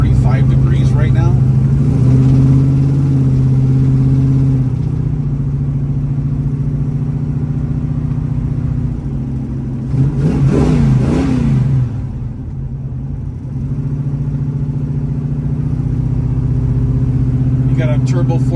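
A 1969 Chevrolet Camaro RS with a turbo 400 transmission idles warm on a cold day, a steady deep engine rumble with a brief rise in revs midway, heard near and under someone talking.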